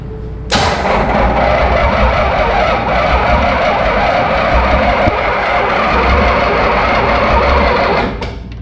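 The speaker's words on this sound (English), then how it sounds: "So, I'm going to go ahead and see if this old starter still works." Old starter cranking the engine of a 1977 Pontiac Trans Am, a loud, fast, steady churning whir held for about eight seconds before cutting off.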